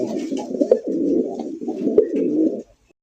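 Old-breed Golla pigeons at a pigeon sale coo close and clear in three rolling, throaty phrases, each lasting nearly a second, with a couple of sharp clicks between and silence at the end.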